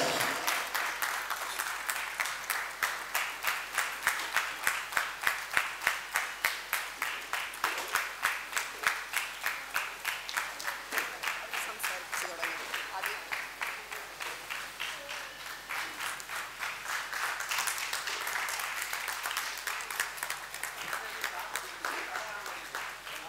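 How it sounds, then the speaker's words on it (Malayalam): An audience welcomes guests onto a stage with long, steady rhythmic clapping that carries on evenly throughout, with voices faintly underneath. "കൈയടിച്ചുകൊണ്ട് തന്നെ നമ്മൾ ഇവരെ സ്വീകരിക്കുന്നു"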